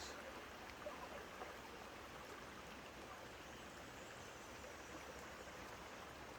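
A creek swollen by a sudden rush of water pours past fast and steady, a dense, continuous broadband rush with no voices over it.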